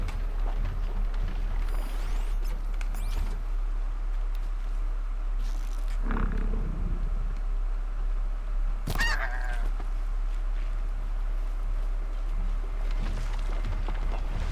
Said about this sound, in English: I did not even realise geese were in this game.